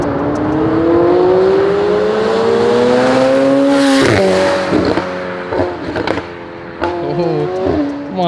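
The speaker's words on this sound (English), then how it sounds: "I've never heard a car sound so freaking incredible." A luxury supercar engine revs hard and climbs in pitch for several seconds, then drops and blips through sharp throttle stabs, loud and close throughout.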